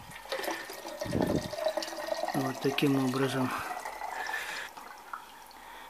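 Liquid is poured from a container into a bucket, giving a splashing, trickling stream for a couple of seconds, close by. Someone talks in Russian over and around the pour.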